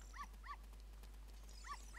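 A dog in The Legend of Zelda: Majora's Mask gives four short, clear synthesized barks in two pairs, with a pause between the pairs, over a steady low game hum.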